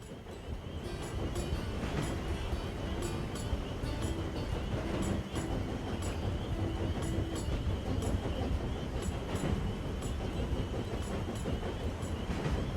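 A train runs steadily in a continuous loud rumble with repeating wheel clicks and clacks, heard close and alone without talk.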